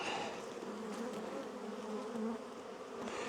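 Honey bees swarm around an opened hive box during a spring inspection, a dense continuous buzz hovering close by at steady volume with no talking.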